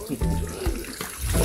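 Water flows and rushes along a channel at an outdoor nipa hut site, a short, loud gushing burst with a voice talking over it.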